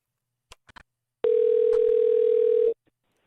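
A single steady electronic ringback tone sounds for about a second and a half while a cell phone is being called, preceded by a few soft clicks, with no talking.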